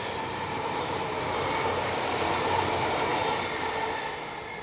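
A train passes at steady volume, a broad continuous rumble and rush that swells slightly mid-way and stays close throughout, with no talk.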